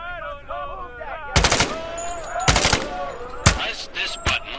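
Rifle fire in the Medal of Honor: Above and Beyond VR game: four sharp, loud shots spaced about a second apart, each with a short ringing tail, following a stretch of warbling background tones.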